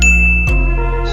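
Bright notification bell ding rings out with a sustained tone and a second strike midway, loud and close, layered over a steady low hum with no voices.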